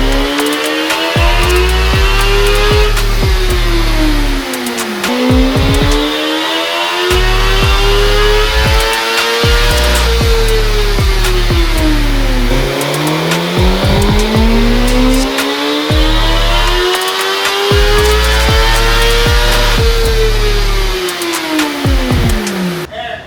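A 2024 Suzuki GSX-R1000 engine revs hard on a dyno, climbing repeatedly in long screaming sweeps through the gears, then dropping back, loud and close with no talking.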